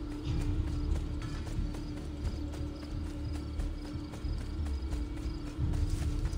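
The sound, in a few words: horse hooves clip-clopping in the video game Assassin's Creed II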